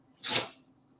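A single short, sharp sneeze bursts out close to the mic against quiet background.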